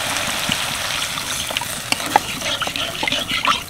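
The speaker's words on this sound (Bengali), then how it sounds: "এবার আমি দিয়ে দেবো মশলা ধোয়া জল" Spice-rinse water pours into a hot frying pan of vegetarian mustard hilsa gravy, sounding as a close, loud gush and sizzle with small bubbling pops and clinks.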